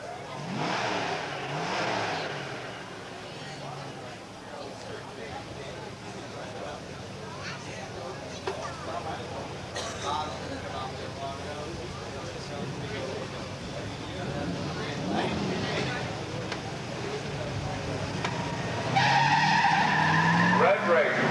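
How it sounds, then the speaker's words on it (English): Muscle cars at a 1985 drag race, a 1971 Cuda and a 1965 GTO with a 389 and automatic, roar with revving engines and tire squeal, growing louder near the end under a loud announcer and crowd noise. "a good running GTO of Gary Meters, a 65 GTO, a 389 in automatic."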